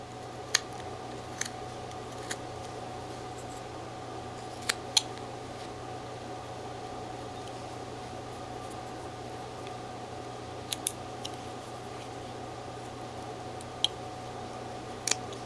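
A knife whittles a small figure from a block of wood, giving sparse, sharp little cutting clicks spaced irregularly over a low, steady background hum.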